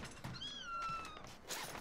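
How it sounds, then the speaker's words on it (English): A child's cry in an online shooter game sounds like a cat's meow: one rising and falling wail near the middle of the clip, heard over game noise and gunfire-like thumps. "Oh, that's a child. I thought that was a cat at first."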